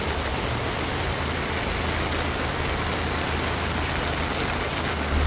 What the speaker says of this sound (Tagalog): Malakas na yung buhos ng ulan, no?